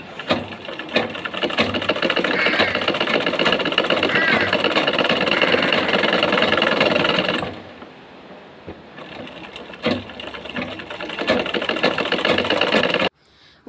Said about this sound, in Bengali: এই যে এখন রাবারের উপরে একটা টান দিব, মানে সেলাই করে দিব।